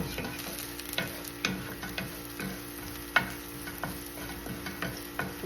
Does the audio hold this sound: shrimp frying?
yes